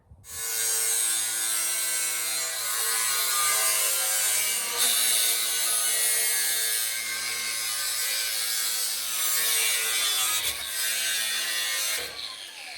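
A saw cuts through wood pieces while a drop saw bench is being built, a loud, steady rasping that runs for about ten seconds with two brief breaks near the end, and no talking over it.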